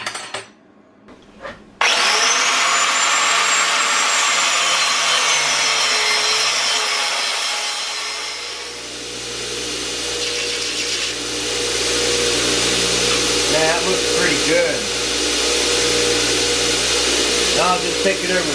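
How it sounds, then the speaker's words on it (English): A power tool works steel trailer stock for a homemade cargo trailer cook table, first with a brief harsh burst, then a loud continuous whine of wire brushing and cutting that grinds on steadily at close range. "I'll go wire brush that down and get it cut off 3/4 of an inch"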